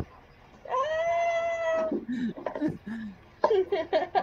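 A cat gives a long, clear meow followed by shorter mews and chirps, close to the microphone, with people chatting and laughing around it.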